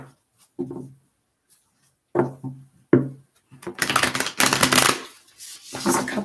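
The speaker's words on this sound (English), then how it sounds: "couple more shuffles here for you guys" Tarot cards shuffled by hand in a few short separate riffles and taps, then a longer, louder burst of rapid shuffling near the end, crisp and close with quiet gaps between.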